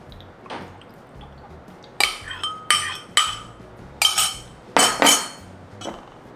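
A metal spoon clinks against a dish while sauce is spooned over tofu, giving about six sharp, close clinks in an uneven rhythm over a quiet kitchen background.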